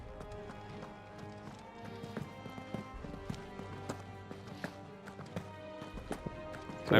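Horse hooves clip-clopping in Final Fantasy 16, a steady rapid rhythm of soft hoof taps at moderate distance over faint game background sound, with no talking.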